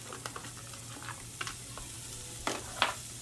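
Chopped onions frying in a pan for a tortilla chicken pot pie, with a quiet, steady sizzle and a few brief stirring scrapes and clatters, the loudest near the end.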